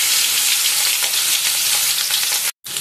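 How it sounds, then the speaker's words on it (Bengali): Hilsa fish with roe fries gently in oil on a low gas flame, giving a loud, steady hiss at close range that cuts out briefly just before the end, with no talking. "ডিমওয়ালা মাছ খুব আস্তে আস্তে করে একটা একটা করে গ্যাস কমিয়ে ভাজতে হবে।"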